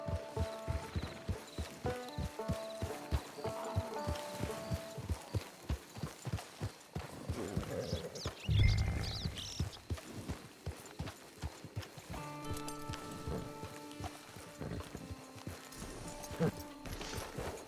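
Horse hooves clip-clopping in the video game Red Dead Redemption, a steady rhythmic walking gait of hoofbeats over game music, with a brief louder thump partway through.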